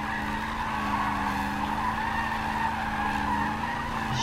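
A car drifts around a roundabout with its tires skidding, a loud, steady squeal layered over engine drone that holds for the full few seconds, close and unbroken, with no voices.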